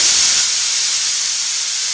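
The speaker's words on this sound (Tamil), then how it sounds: "இப்போ தண்ணி கொதிச்சிட்டு" A steady, loud hiss of steam rising from water at a rolling boil in a pot, constant throughout with no other sounds.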